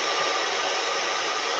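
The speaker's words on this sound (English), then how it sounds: "I think I turned on the heat gun" A heat gun blows hot air to dry paint, giving a loud, steady broadband roar close up. The whoosh holds constant throughout with no voices.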